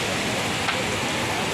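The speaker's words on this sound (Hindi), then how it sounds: "ये हो गई है बारिश स्टार्ट" Heavy rain beginning over an outdoor street food market in Rawalpindi, a steady loud broadband hiss of drops filling the whole moment with no break.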